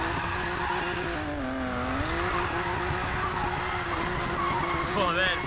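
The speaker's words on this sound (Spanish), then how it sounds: "¡Qué derrape!" A drifting car in the racing game Need for Speed Payback gives a long, wavering tyre screech over a droning engine, loud and steady with pitch bends as the slide shifts, a voice talking over it.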